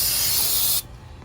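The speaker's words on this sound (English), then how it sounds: "Spray it pretty liberally on there, and then you just want to wipe that off." Aerosol brake cleaner sprayed onto the rear brake rotor of a 2020-2025 Subaru Forester: a loud, steady close-up hiss lasting under a second, then it cuts off abruptly into quiet.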